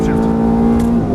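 A Ferrari F430 engine pulls hard on track right after an upshift, a loud, steady, close-up drone with strong harmonics holding an even pitch through the short burst.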